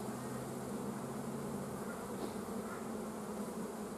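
Honey bees in an open hive during winter brood management give a steady, dense buzz of many insects, continuous and close throughout, with no voices.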